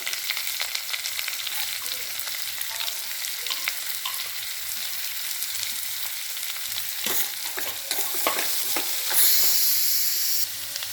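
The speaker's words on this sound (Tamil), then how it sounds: "வெங்காயம் நல்லா வதங்கிடுச்சு, நல்லா கோல்டன் ப்ரௌனாக வெங்காயம் வதங்கிடுச்சு" Chopped big onions with curry leaves and a pinch of salt sauté to golden brown for dal tadka, a dense steady sizzle up close with a few stirring scrapes toward the end and no voices.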